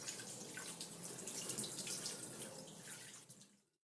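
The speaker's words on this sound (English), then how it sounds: "and then I'm going to just wash my face" Water runs steadily from a bathroom tap during face washing, a close splashing rush with small drips that carries on for a few seconds and then cuts off, with no talking.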